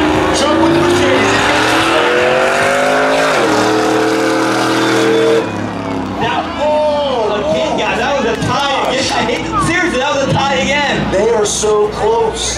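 A Mercedes and a truck launch side by side at street drag races, engines revving hard then dropping as gears shift, a loud close roar with a crowd talking and shouting underneath.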